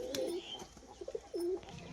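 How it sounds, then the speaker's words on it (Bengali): A male pigeon coos in two soft, rolling phrases close by, with brief pauses and light rustling between them. "দেখুন একটা নর পায়রা লালের মধ্যে আছে"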